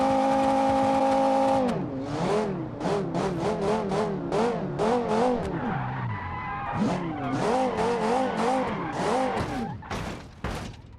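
Racing-style car in a video game (Unnamed Car Series) driven roughly, with a steady engine drone giving way to repeated tire squeals and skids that rise and fall, loud and close throughout.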